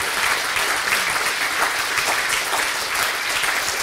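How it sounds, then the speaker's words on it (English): A lecture audience at Prague Castle gives a sustained round of applause, steady dense clapping from many hands filling the hall for a few seconds without talk. "If I may ask for one extra round of applause for Professor Stevenu Pinkerovi."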